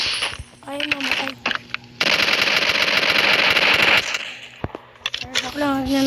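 A two-second burst of rapid automatic fire from a Call of Duty gun mod in Minecraft, loud and continuous, framed by single shots and a person talking before and after.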